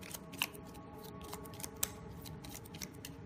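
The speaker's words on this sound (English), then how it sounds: "Let's shuffle them up" Close, quiet shuffling of Fireteam Zero board game cards, with soft riffling and a few sharp clicks and snaps scattered through.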